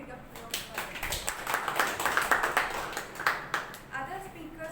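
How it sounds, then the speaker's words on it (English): Audience applause at a Toastmasters club meeting, a steady patter of many hands clapping from start to finish at moderate level, with some crowd murmur mixed in. "I would like to give a big applause for them."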